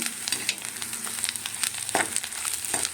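Sprouted fenugreek seeds fry in a pan with a light, continuous crackling sizzle and intermittent small stirring scrapes close by, and no one speaks.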